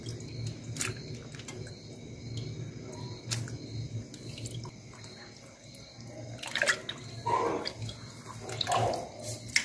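Sliced potatoes for homemade chips are rinsed under running water, with a steady trickle and drips, then louder sloshing splashes near the end as the slices are stirred.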